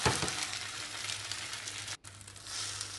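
Grated potato fries in a hot pan with a steady, close sizzle and crackle that briefly cuts out, then resumes alone.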